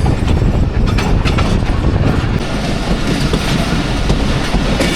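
A freight container train led by a GU40 locomotive rolls past close by, a loud continuous rumble with clattering wheel noise throughout and no voices.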